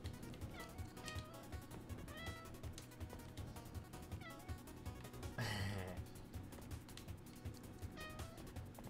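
In the video game 30XX, a cat gives a short meow midway through, heard over busy rhythmic game music and effects.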